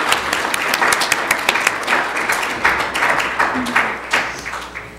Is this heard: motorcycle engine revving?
no